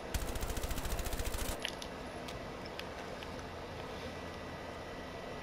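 A fast burst of automatic gunfire from the game Rainbow Six Siege rattles for about a second and a half, sharp and evenly spaced, then dies away into a quiet hum with a few faint clicks.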